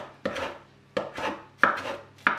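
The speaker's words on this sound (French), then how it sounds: "on prend le couteau et on vient découper des petites lanières" A knife slicing tightly rolled fresh herbs into thin strips on a board, four crisp close chops at an even, unhurried pace, each with a short ringing tail and no voices.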